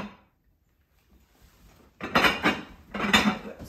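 A metal lid clatters onto a cooking pot of brown rice, two close rattling knocks about a second apart after a brief quiet shuffle.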